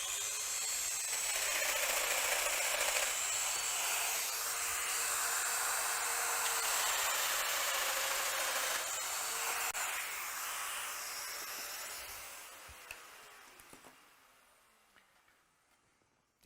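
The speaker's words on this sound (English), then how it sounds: "Now I'll drill the stop hole." A Festool Domino joiner routes a stop hole into wood, a steady high-pitched motor whine with cutting hiss running for about twelve seconds before winding down and fading to near silence.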